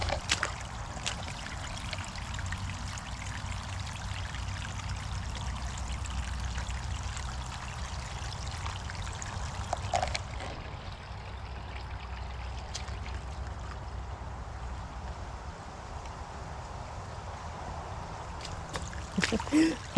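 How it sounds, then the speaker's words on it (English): A river rushes down through a hiking area, a steady, continuous wash of flowing water that fills the whole stretch at an even level, with a brief louder splash near the end. "see the river coming down through here"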